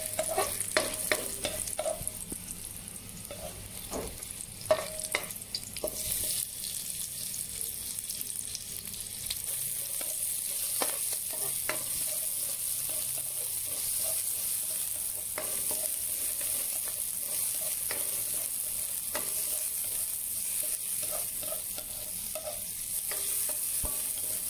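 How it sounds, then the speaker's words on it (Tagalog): Garlic and onion sautéing in a pan for a Filipino sayote and carrot dish, a steady bright sizzle of frying with repeated clinks of stirring throughout, close and continuous with no talk. "Gisa muna natin yung bawang at sibuyas."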